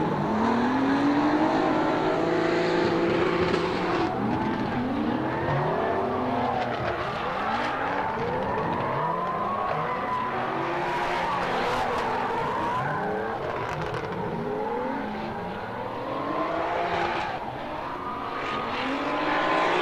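Drift cars in a tandem run at Mulgi Drift 2024, Ahti Kurm leading and Kirill Žukov chasing in his new car, make loud, continuous engine revving that rises and falls under sustained tire squeal, with no pause throughout.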